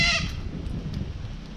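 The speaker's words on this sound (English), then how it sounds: "Oh look, we got a goat." A goat at a petting zoo gives one loud, near bleat at the very start, then fades into outdoor background rumble and wind.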